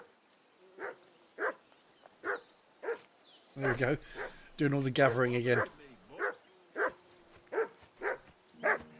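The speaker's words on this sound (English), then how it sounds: "This bloody dog's barking just as much as my own bloody dog does." A dog in Kingdom Come Deliverance 2 barks in a steady series of short, evenly spaced yaps at moderate distance, while a person talks over the middle stretch.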